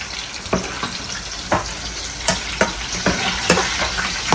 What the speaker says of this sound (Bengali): আর এখানে মিনি সিঙ্গাড়া ভাজা পড়তেছে।